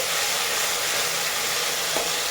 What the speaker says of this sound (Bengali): এর ভিতর দেখুন আমাদের বেটে রাখা টমেটো পেস্টটা দিয়ে দিলাম আমরা ভালো করে ভেজে তুলে নিচ্ছি